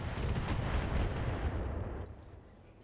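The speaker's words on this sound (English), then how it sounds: "We'll start off with a salvo of long-range fire." Long-range weapon salvo in a tactical combat game, heard as a dense, rumbling roll of distant firing that holds steady for about two seconds before tapering into a faint tail.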